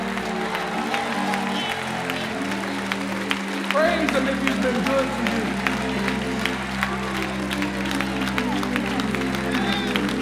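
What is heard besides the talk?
congregation applause and cheering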